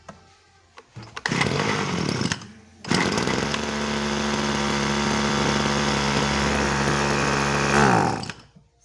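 A small agricultural sprayer engine that starts and runs but will not rev, sputtering briefly, then settling into a loud, steady buzzing idle close by that fades out at the end.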